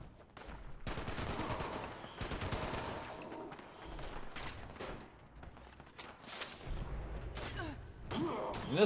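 Rapid bursts of video-game gunfire from Fallout 76 players shooting at enemies, dense overlapping shots and automatic fire with heavy thumps, loud and continuous across the whole stretch with faint voice chat mixed in.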